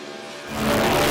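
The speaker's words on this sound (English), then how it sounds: "The 358 Cube NASCAR motor powering this thing. Epic skid and a mad drive job." A burnout car with a 358 cubic inch NASCAR engine revs hard at an Australian burnout event, its roar swelling sharply halfway through into a loud, sustained, dense engine howl.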